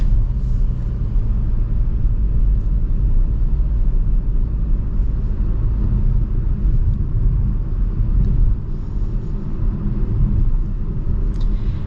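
A 2026 Chevy Trailblazer economy car on the move, with a constant low engine rumble and road noise filling the cabin, steady and fairly loud throughout, with no talking.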